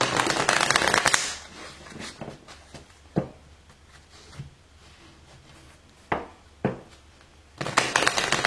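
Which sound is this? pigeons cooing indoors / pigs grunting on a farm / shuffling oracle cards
shuffling oracle cards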